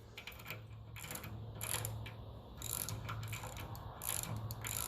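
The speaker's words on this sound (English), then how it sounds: "Now your 3/8 drive seems to be the best for just tightening them up" A 3/8-inch drive ratchet tightens bolts on a 1954 Ferguson 20 TEF diesel tractor, giving quiet, continuous pawl clicking in short bursts over a low steady hum, close by.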